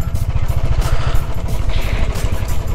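A motorcycle rides along a road through wetland country en route to the Mangalajodi bird sanctuary, its engine a steady close rumble with rhythmic low pulsing and wind noise throughout.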